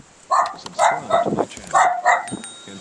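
A dog under a bridge gives a series of sharp, loud barks and yips in uneven bursts, close by, with faint background murmur between the barks.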